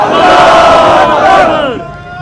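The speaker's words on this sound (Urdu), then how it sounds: "یہ جو آپ نے نعرے لگائے ہیں ابھی" A large crowd at a Gaza solidarity march in Islamabad chants religious and political slogans in unison, a loud, dense roar of many voices that swells and then fades out near the end.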